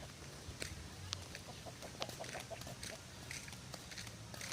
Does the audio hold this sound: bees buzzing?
no